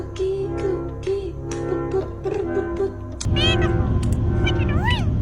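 A parrot mimics a cat's meow, giving a run of close, loud, whiny meows with rising and falling pitch, followed by a harsher, noisier stretch of sound.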